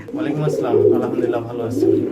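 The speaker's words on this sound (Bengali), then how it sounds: "খামারের সামনে আপনারা দেখতেই পাচ্ছেন এখানে অসংখ্য ডেনিশ কবুতর রয়েছে" Danish pigeons coo softly at a pigeon farm, their low rolling calls mixed with a person talking nearby.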